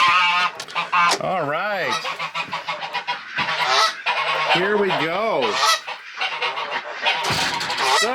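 Geese and other farm fowl honk loudly and repeatedly inside a dry new farm shelter in cold, snowy weather, the nasal calls rising and falling close by while a voice speaks briefly over them.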